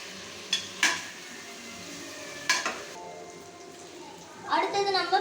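Mutton being stirred and sautéed in a cooking pot, with a spoon scraping and clanking against the metal, a faint sizzle underneath and a louder stirring burst at the end.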